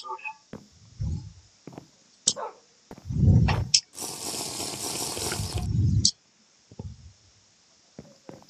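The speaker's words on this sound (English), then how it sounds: "Just getting me a glass of water." A kitchen tap gushes into a drinking glass for about two seconds, a bright close hiss, with scattered thumps, clinks and handling noises before and after it.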